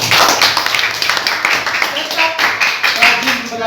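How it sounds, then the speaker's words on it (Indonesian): Classroom applause from a group of pupils, a steady burst of close clapping lasting several seconds with voices mixed in. "Tepuk tangan untuk kita semua."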